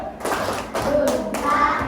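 A group of schoolchildren in a classroom performs a rhythmic salute clap, a few distinct bursts of clapping and thumps with children's voices chanting along, close and fairly loud.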